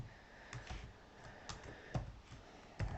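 Computer keys clack in short, uneven bursts of typing, close but quiet, with no talk over them.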